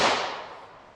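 A .38 Special Critical Defense +P round is fired from a handgun, a single loud, sharp crack that fades quickly.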